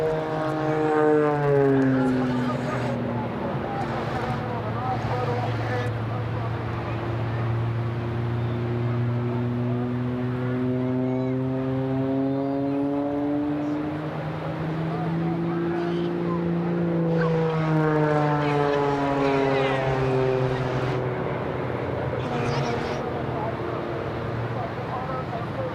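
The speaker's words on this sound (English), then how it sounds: "So after Aaron, we've got our KC-135 and C-17 doing its display" A KC-135 tanker and a C-17 transport fly an air show display on the Gold Coast, their jet engines roaring steadily throughout with rising and falling pitch sweeps as they pass along the flight line.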